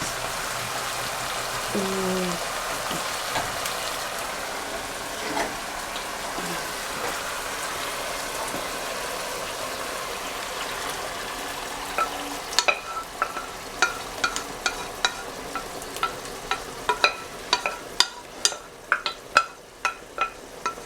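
Tomato sauce poured over cuttlefish frying in a pan, giving a steady broad sizzle that shifts to sharper popping and spattering crackles toward the end, with no talking.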